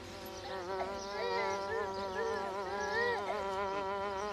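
Flies buzz close by in a steady, wavering drone, their pitch rising and falling as they hover around, with no other sounds over it.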